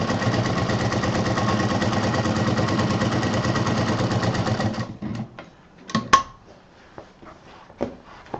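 Double-needle sewing machine stitching a backpack, a loud, steady, rapid mechanical chatter running for about five seconds before stopping, followed by scattered clicks and handling knocks as the fabric is moved.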